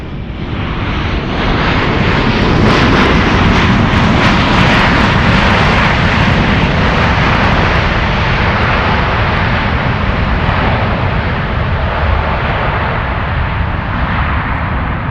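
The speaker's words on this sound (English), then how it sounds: "The aircraft a 737 MAX 9." An Alaska Airlines Boeing 737 MAX 9 jet flies close overhead, its engine roar loud and continuous, swelling and holding throughout with no voices.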